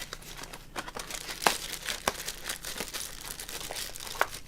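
Scissors cut away pieces of a paper tag, a close crinkly rustle of paper broken by a few sharp snips and clicks, with no one speaking.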